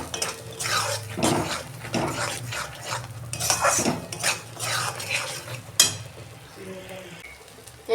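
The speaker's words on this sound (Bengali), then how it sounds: "দেখুন বন্ধুরা, আমি নেড়ে চেড়ে একদম শুকনো করে নিয়েছি।" A spatula scrapes and knocks repeatedly against a pan as mashed pointed gourd with salt is stirred dry over heat, uneven rhythmic strokes with a sharp clatter near the end.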